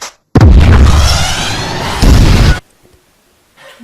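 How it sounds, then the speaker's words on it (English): A loud explosion sound effect booms close by and rolls on for about two seconds, then a second burst hits and both cut off abruptly to near silence. "But what about a bigger explosion?"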